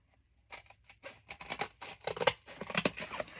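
Blade cutting through the spine of a book block, a run of crisp snipping and tearing cuts, close and fairly quiet, following a moment of silence, with no talking.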